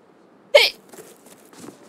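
A single sharp hiccup bursts out near the start, loud and close, followed by faint breathy sounds and a soft second catch.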